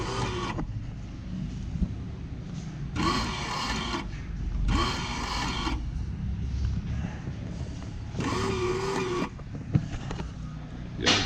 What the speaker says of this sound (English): So I'll hit the foot pedal again and show that coil actuates.